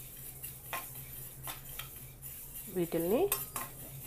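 Two tablespoons of sesame seeds dry-roasting in a kadai on the stove, with scattered light clinks and scrapes of a spoon stirring against the metal and a brief spoken word near the end.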